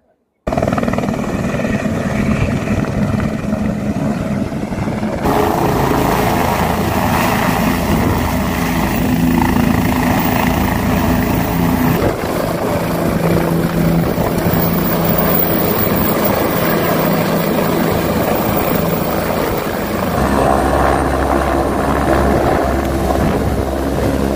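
Helicopters operating near the Kedarnath helipad in the Himalayas, a steady loud rotor and engine drone that shifts in character across the stretch, with some voices underneath.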